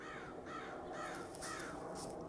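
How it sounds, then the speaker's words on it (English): Crows caw in a series of about four harsh, repeated calls, fairly faint and slightly distant, over a soft background hiss. "I love the crows."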